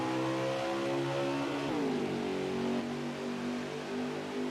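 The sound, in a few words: stock cars accelerating on restart in NASCAR Heat 5 video game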